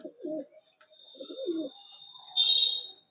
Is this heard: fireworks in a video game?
no